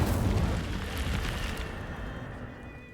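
Incendio fire spell cast in Hogwarts Legacy: a loud, rumbling fiery burst that starts at full strength and slowly fades over about three seconds, with no voices.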